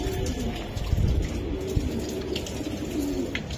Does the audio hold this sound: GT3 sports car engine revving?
no